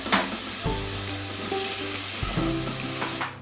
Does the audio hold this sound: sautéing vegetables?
yes